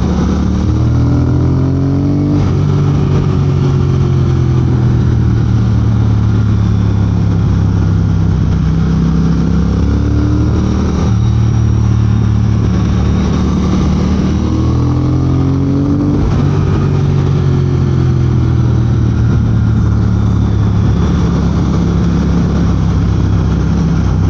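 A Triumph Speed Twin motorcycle engine while riding, a loud, steady mid-pitched drone that rises and falls with gear changes and throttle, continuous and close throughout.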